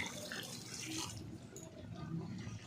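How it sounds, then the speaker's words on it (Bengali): Hot water is poured into a cooking pot of vegetable curry with sweet potato and papaya, a close, continuous splashing gush lasting a few seconds, with no talk over it. "দেখো আমি এখানে একটু গরম জল দিয়ে দিলাম"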